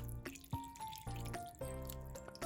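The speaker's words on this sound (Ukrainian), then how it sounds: "Водички так, щоб тільки злегку покрила вода" Water is poured into a pot over plov ingredients, only enough to barely cover them, giving a close splashing, gurgling flow with a few short pauses and changes in pitch.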